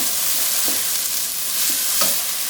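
Onions sizzle steadily in a hot pan while a utensil stirs and scrapes them a few times, close and loud with no talking.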